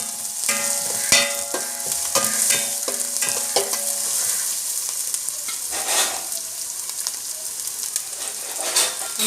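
Food frying in a pan for gobi manchurian, with a loud, continuous sizzle, crackling spatters and repeated scraping and tapping of a spatula against the pan, close and without talk.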